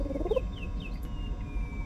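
A bird in the Star Trek: The Next Generation – A Final Unity video game gives a short gobbling, warbling call, followed by a few thin chirping tones over a low background hum.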